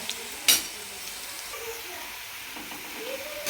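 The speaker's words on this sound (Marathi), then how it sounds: "कांदा तळत आलेला आहे बघा कलर चेंज झालेला आहे" Onion frying in a pan for chicken biryani gives a soft, steady sizzle with a sharp utensil scrape near the start and faint stirring movements afterward.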